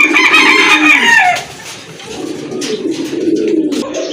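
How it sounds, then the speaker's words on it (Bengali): A pair of pigeons offered for sale at a pigeon seller's fill the air with loud, steady cooing and throaty fowl calls, with rooster-like crowing mixed in nearby. "মাশাল্লাহ সুন্দর এক জোড়া কবুতর"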